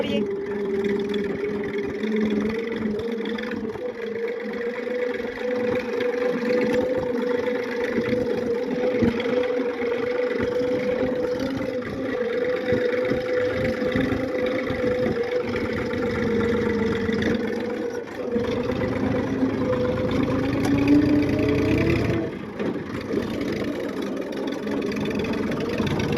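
A tractor engine runs at a steady idle-like rumble, loud and unbroken, with a slight rise in pitch late on and people talking over it.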